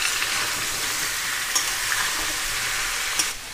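Boiled jackfruit sizzles steadily in a pan of hot oil with salt and turmeric, cooking for a mutton fat dish, with a continuous loud crackle and a few brief stirring clinks.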